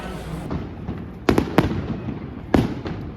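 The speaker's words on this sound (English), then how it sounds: "it's finally the fireworks begin here." Fireworks burst at the Lysfest Bergen Christmas festival on Festplassen: a few sharp, loud bangs in quick succession, then a lone later blast, each rising over a steady crowd murmur with no clear talk.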